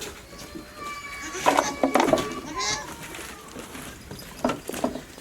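Large goats bleat a few times nearby, wavering calls in two short bursts, while people talk in the background.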